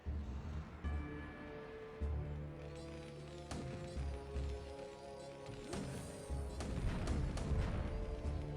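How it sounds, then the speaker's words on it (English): Siege tanks firing in StarCraft Brood War, a series of heavy booms and blasts scattered over a busy, dense battle soundscape with layered game tones, no talking. "Killing his own spider mines with these siege tanks here."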